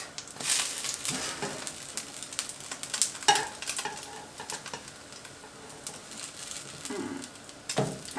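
Soufflé pancakes frying in butter and oil in a pan, a close, steady sizzle and crackle with occasional scraping clicks of a spatula as they are turned.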